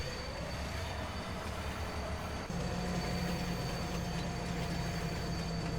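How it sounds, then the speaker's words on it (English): A train in Farming Simulator 25 rumbles steadily with a low mechanical drone that shifts to a heavier engine tone partway through, with faint tonal whines and no talking. "Can I have control of the train yet, please?"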